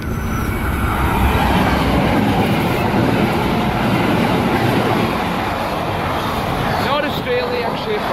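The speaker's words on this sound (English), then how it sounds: "And the NR classes with a steel train." A steel freight train hauled by NR class locomotives rolls past at Douglas Park with a loud, steady rumble and wheel clatter close by, and a high squeal of wheels near the end.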